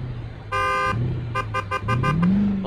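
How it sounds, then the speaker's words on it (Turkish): A Mercedes S-Class horn in the Euro Truck Simulator 2 game sounds one sustained toot followed by a quick series of short honks, loud and close over a low engine hum. "normal kornası var"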